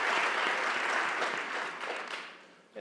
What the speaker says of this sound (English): I think she deserves another round of applause for her exemplary service